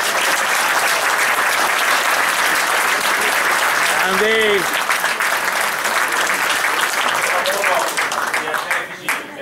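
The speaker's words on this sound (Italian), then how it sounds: "vorrei un attimo solo un applauso grande a Staff Film" Loud, sustained audience applause at an Italian hotel event premiering a documentary film, dense clapping filling the whole span with a brief voice calling out midway and the ovation thinning slightly near the end.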